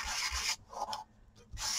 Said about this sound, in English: I like to do a little bit of sanding on them